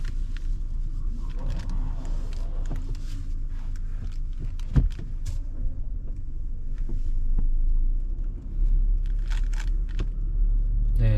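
Hyundai Avante CN7 sedan on a test drive, heard from inside as a steady low engine and road rumble with occasional small knocks and clicks, rising slightly near the end.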